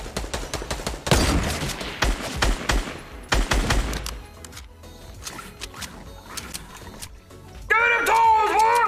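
Heavy automatic gunfire tears into a house in Fortnite, dense bursts of loud shots in clusters, then quieter scattered pops, with a brief high wavering game effect at the close.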